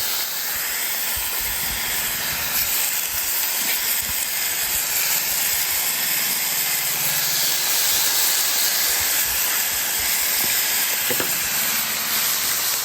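Thin bluegill fillets sizzle on a grill for fish quesadillas, a steady loud hiss that runs without pause, with faint clicks and bumps from handling and no voices.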